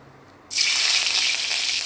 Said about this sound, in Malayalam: വെളിച്ചെണ്ണ ഇടുക അതിലേക്ക് കടുക് ഇടുക കടുക് നല്ലവണ്ണം ഒന്ന് പൊട്ടി വരുമ്പോഴത്തേക്ക്